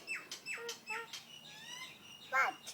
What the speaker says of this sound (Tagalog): What's that? Bird.